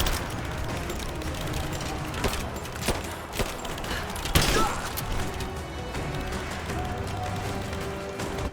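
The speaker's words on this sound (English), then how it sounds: "Grenade out!" Gunfire and a grenade blast in the video game Rise of the Tomb Raider, a dense run of sharp bursts and crashes with a sudden louder impact midway, continuing steadily to the end.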